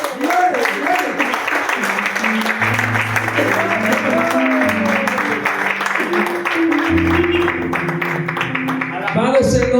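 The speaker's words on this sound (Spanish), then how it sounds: "Dale un aplauso al Señor." A church congregation claps steadily while sustained keyboard chords play and a preacher's voice carries over the applause.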